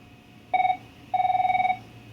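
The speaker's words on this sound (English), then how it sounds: "We've got a phone call." A telephone rings twice, loud and close. The first burst is short and the second is longer, each with a rapid trilling bell warble, set in a quiet room.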